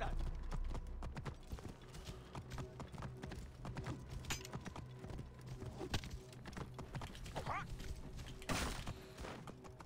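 Rapid horse hoofbeats clatter steadily over a dense, noisy Assassin's Creed Origins game soundscape with occasional thuds, continuous for several seconds.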